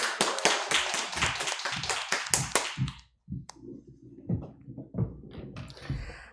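A church congregation claps together in welcome as the pastor comes forward, a burst of sharp, steady, nearly rhythmic claps lasting about three seconds before breaking off into quieter sounds.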